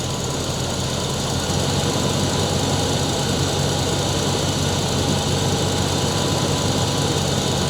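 A 1987 Monte Carlo SS with a 305 V8 idles steadily at close range, a continuous even rumble with a faint tapping knock, no voices over it.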